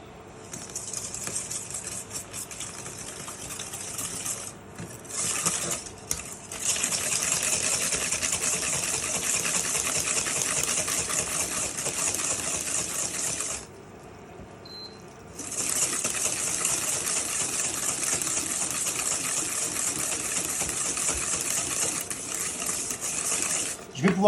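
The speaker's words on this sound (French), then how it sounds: "Et ici, je vais pouvoir fouetter mes œufs." Eggs whisked by hand in a bowl for brownies, a steady fast metallic clicking and swishing that runs almost without pause, stopping briefly twice before resuming at the same brisk pace.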